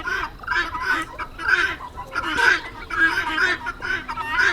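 Several chickens in a coop that includes an olive egger hen cluck and murmur in repeated close bursts, a busy overlapping flock chatter.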